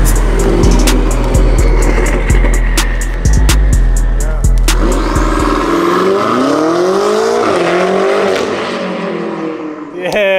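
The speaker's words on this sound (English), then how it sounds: "The downshift. Especially with the shifts and the burbles." Porsche 911 and other supercars in Detroit, a loud engine revving close by with sharp crackling exhaust pops, then a rising-and-falling drone of passing and shifting cars, with people talking over it.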